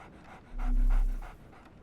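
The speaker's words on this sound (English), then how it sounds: "So, Barnes has a dog now." Dog in the video game Sherlock Holmes: The Awakened pants in a few quick rhythmic breaths, close and moderately loud over a low background hum.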